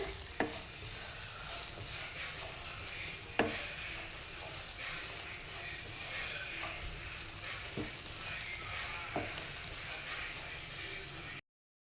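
Peanut powder being roasted in a pan, a soft, steady sizzle with occasional sharp scrapes and taps of a spoon against the pan, fairly quiet throughout.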